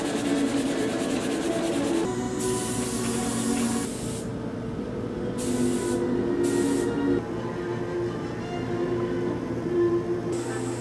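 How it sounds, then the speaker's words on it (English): Several hissing bursts of a spray gun spraying lacquer on an electric violin, some long and some short, over a steady low workshop hum. "This is day three of spraying lacquer."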